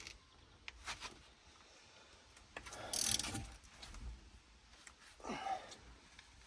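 A ratchet tightens a bolt on a BMW E46 in a few quiet bursts of rapid clicking, with soft metallic handling noises between them, heard close and alone.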